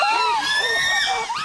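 Chimpanzees scream loudly and chaotically after a hunt, several shrill wavering cries overlapping in a close, intense burst.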